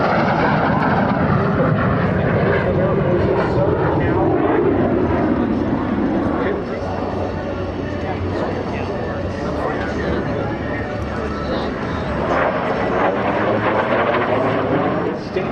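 A MiG-17 Fresco jet makes an afterburner pass at the Wings over Solano airshow at Travis AFB. Its loud, rough roar swells and then eases as it goes by, with an announcer's voice running underneath.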